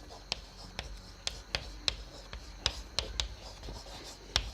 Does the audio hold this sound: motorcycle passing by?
no